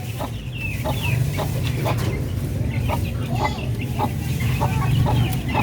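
A native Parawakan hen clucks repeatedly after laying eggs, a close, busy run of short calls over a low farmyard murmur.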